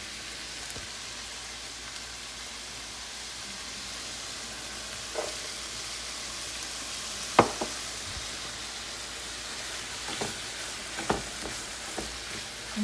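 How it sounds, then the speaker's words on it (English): Garlic and onion sauté with meat in a pan, giving a steady, low sizzle throughout with a few sharp clinks of stirring or utensil taps standing out near the end. "And just saute everything together"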